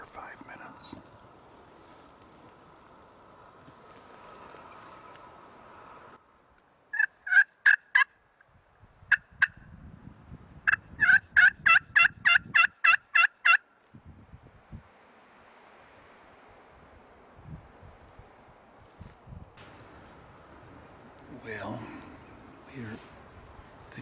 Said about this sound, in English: We just heard the first gobble.